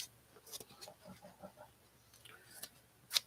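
Scissors cutting something out during an art session, with a few quiet, sharp snips spread out and separated by near silence, the last snip crisp and close.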